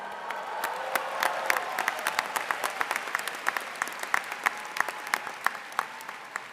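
Commencement audience at Michigan Ross applauds, a steady patter of many hands clapping at moderate volume with scattered sharper claps standing out, continuing throughout.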